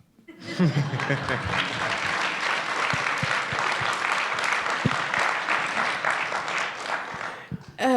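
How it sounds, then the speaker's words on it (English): Applause from an audience at a talk on elections in the US and Kenya, a dense steady clapping that swells in after a brief pause and holds loud throughout, with a voice and some laughter briefly audible over it. "I think I deserve a clap"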